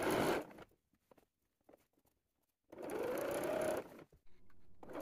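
Sewing machine stitching ruffles onto a skirt in two steady whirring runs of about half a second and a second and a half, close and clear, with quiet fabric handling in the pause.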